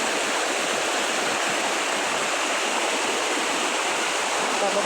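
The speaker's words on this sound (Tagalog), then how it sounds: "Dito kami sa may ilog. Sa bundok." A mountain river waterfall rushes steadily, a dense, loud, unbroken wash of falling water close by, with no pause or change throughout.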